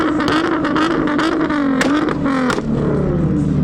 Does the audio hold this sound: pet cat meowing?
no